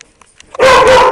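Pet dog in a house lets out a sudden loud bark after a quiet moment, a single sharp, close yelp-like burst that rings on briefly.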